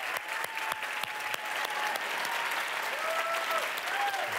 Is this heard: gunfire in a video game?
no